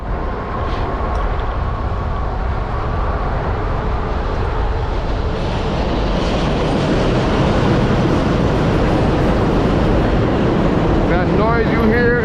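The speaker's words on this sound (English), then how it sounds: "Noise you hear is the number 7 train." New York's number 7 elevated subway train rumbles along the Roosevelt Avenue tracks in Queens, a steady, loud broadband roar with rail clatter that continues throughout, heard from street level nearby.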